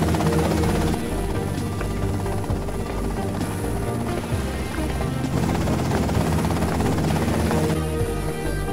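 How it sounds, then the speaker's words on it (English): A helicopter in the video game GTA Vice City, its rotor thudding loudly and continuously as a dense, droning whir close by. "that's them in the chopper"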